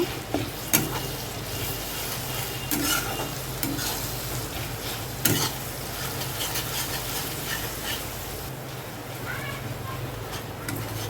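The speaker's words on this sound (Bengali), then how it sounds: "আদা রসুন কাঁচা লঙ্কা বাটা ভালো করে মিশিয়ে নেব" Ginger, garlic and green chilli paste is stirred in a frying pan, with a steady loud sizzle and repeated scraping strokes close by, and a voice talking over it.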